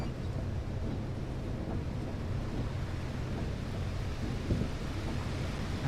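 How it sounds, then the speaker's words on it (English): Heavy rain on a dark night drive in Fernbus Coach Simulator: a dense, unbroken hiss with a low rumble underneath, steady and even throughout, with no talking. "it's not letting up the rain"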